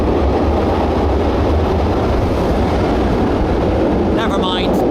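A metro train pulls out of a station with a loud, steady low rumble that fills the platform. Speech is faint under the noise, and a brief higher tone appears near the end.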